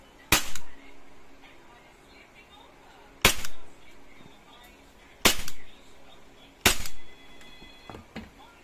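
A WE Glock 35 Gen4 gas airsoft pistol fired semi-auto, four sharp separate cracks a few seconds apart, each with a short clattering slide action, close and loud.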